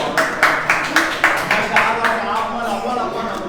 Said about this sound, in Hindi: ताली बजा के स्वागत